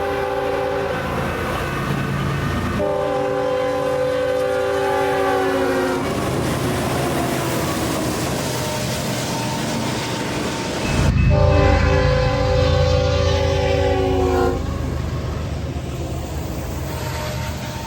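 A Norfolk Southern Erie heritage freight train rumbles steadily past, its horn sounding in two long chords, with a louder close rush as the cars go by near the end.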